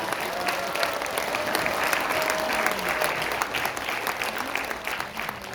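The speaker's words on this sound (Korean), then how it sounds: "우리 정강훈 목사님의 수락연설을 큰 박수로 청해 뵙겠습니다" A crowd at a gathering applauds a pastor's acceptance speech as the new founding chairman of a YouTubers' union, steady sustained clapping from many hands throughout, moderately loud and slightly distant.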